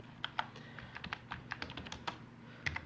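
A phone number is typed on a computer keyboard as quiet, close keystrokes in a quick irregular run, with no talk.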